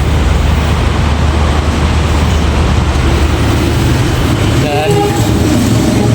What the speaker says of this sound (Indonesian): melintas komuter lain Jenggala